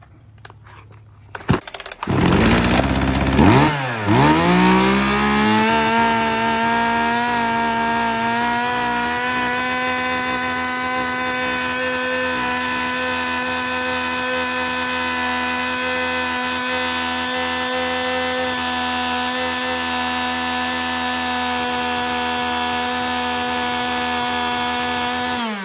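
A Japanese chainsaw engine starts with a few sputtering pulls, then revs up and settles into a loud, steady, buzzing idle that runs on evenly for over twenty seconds, close up, no talk.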